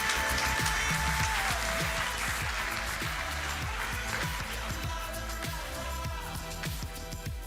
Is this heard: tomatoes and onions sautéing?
no